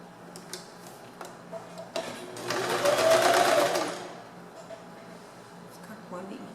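Sewing machine running a short backstitch on a knit beanie, a brief steady mechanical whir of about two seconds rising mid-clip amid quiet handling noises and faint background talk.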